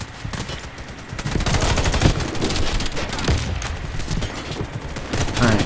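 Rapid rifle fire in the video game Warface, dense bursts of automatic gunshots crackling continuously and loudly with no pauses.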